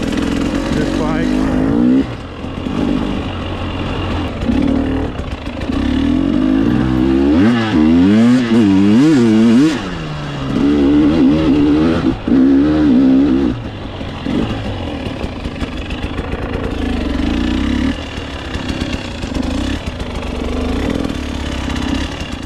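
A Beta 200RR two-stroke dirt bike rides through the desert, its engine droning loudly and steadily with revving rises and falls throughout, close and continuous.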